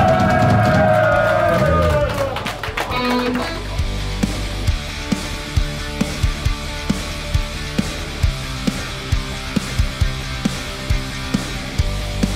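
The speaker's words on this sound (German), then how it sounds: "Applaus für Otto und Simone zum Hochzeitstag." A concert crowd cheers and whoops loudly at first, then settles into rhythmic clapping in time, sharp regular claps repeating for several seconds in a large hall.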